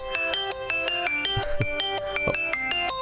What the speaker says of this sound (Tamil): பிரசாத் தான் கால் பண்றான்.